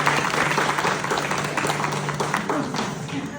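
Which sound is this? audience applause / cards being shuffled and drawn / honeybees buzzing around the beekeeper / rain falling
audience applause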